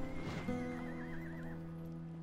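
A horse whinnies in the Rome: Total War Remastered game, one clear wavering neigh near the start, with faint hoof clip-clops and a low steady game drone beneath.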